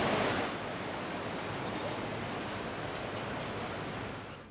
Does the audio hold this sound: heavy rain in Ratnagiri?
yes